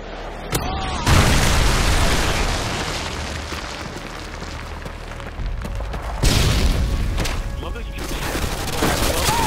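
A Predator missile strike in Call of Duty: Modern Warfare 2 sets off loud, rumbling explosions that run through the clip, with blasts swelling near the start and again later, amid continuous battlefield noise.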